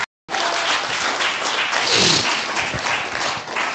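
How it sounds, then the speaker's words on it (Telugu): A church congregation breaks into applause after a short silent gap, with many hands clapping in a dense, loud burst that carries on to the end. "కొట్టండి చప్పట్లు"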